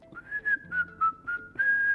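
Someone whistles a song: a clear, close melodic phrase of five or six sustained notes with short breaks between them, heard alone without talk.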